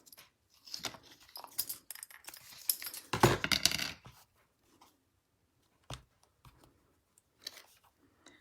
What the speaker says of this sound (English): So I'm just going to cut 3 pieces of twine.